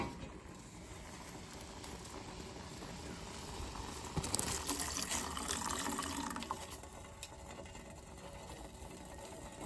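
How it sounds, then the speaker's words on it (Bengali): Water poured into a pot on a gas stove for making milk tea, a steady close splashing and trickling stream that swells briefly midway, with faint background noise throughout. "যার কারণে 1 কাপ জল দিলাম।"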